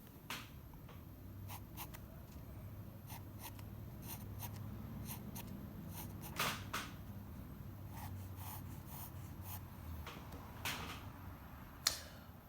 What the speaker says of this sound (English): Now I can go in and put in a sharper line.